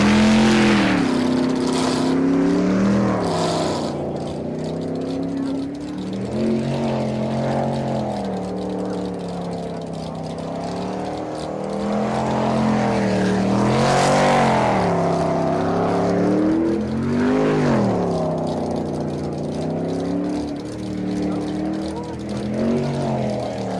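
Unlimited class sprint race boat engines roar steadily through qualifying, a loud continuous droning with rising and falling pitch swells, while people talk over the engine noise throughout.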